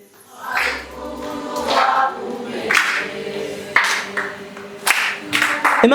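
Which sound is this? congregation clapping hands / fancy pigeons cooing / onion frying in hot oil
congregation clapping hands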